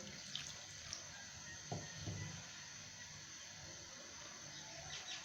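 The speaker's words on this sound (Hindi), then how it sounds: "अब हम इसमें आधा गिलास पानी डालेंगे।" Water pours quietly into a cooking pot on a stove with a soft continuous splashing hiss, a couple of faint clinks near the start, heard close but low in level.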